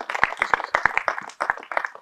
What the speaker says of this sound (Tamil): அவங்களுக்கு ஒரு கைதட்டு பண்ணுங்க